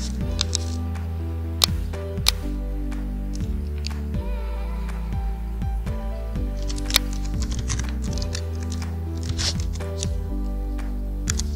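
Quick clicking keystrokes on a laptop keyboard while entering a Google search, arriving in short irregular bursts of taps over steady background music.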